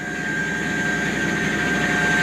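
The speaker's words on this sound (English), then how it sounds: "engines are on. All right, as you can see, the blades are starting to rotate right now." Helicopter engines run as the rotor blades begin to turn, giving a steady, loud turbine whine with a constant high tone and a low rhythmic pulse that builds slightly over the short stretch.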